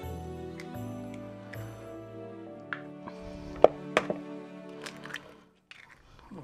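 Eggs cracked by hand into a bowl of sugar and butter for a treacle sponge, giving a few sharp close taps and crunchy shell breaks among soft kitchen clatter, followed by a quiet stretch.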